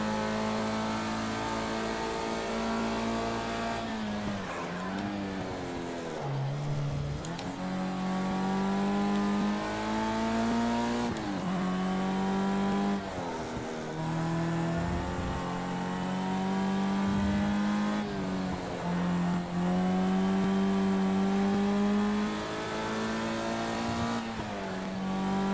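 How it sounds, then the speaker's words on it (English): A race car in the Project CARS 2 video game revs above 7000 RPM, its loud, buzzy engine note climbing in pitch and dropping sharply at each gear change, repeating for about half a minute with no voices. "This car is doing a bit of over 7000 RPM."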